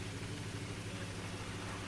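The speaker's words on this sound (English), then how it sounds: "see it's starting to rain now" Steady rain falling in the video game GTA V, a continuous soft hiss with a low engine-like hum beneath, no speech.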